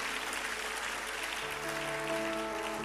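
A church congregation claps softly, the sound faint and distant, while sustained instrumental tones come in halfway through.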